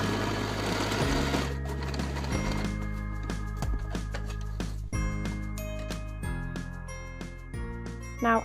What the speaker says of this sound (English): Pin the 2 short edges and sew them together.